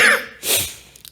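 A man with a cold gives a short, rough cough and throat clear, close and loud, inside a quiet church, followed by a faint breath.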